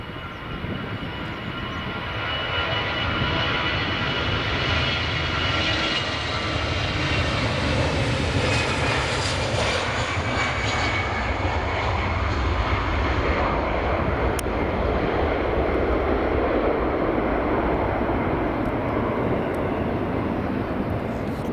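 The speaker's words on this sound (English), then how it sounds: "It's the EasyJet rolling." An EasyJet airliner rolls down the runway at Edinburgh Airport, its engines a steady, loud roar that swells and holds throughout, heard alone from a distance.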